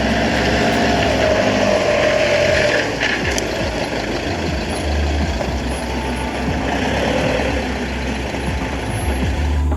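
A truck-like camper van engine runs steadily while the vehicle manoeuvres and turns around beside a water tap, with a brief air-brake hiss near the start.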